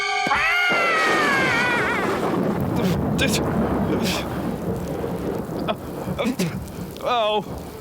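Thunderstorm with heavy rain: a rolling thunder rumble fades into steady pouring rain, with brief voices and exclamations rising over the downpour toward the end.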